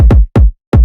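Loud, punchy electronic kick drums hit in a short pattern: a quick double hit, then two single thumps, evenly spaced and close.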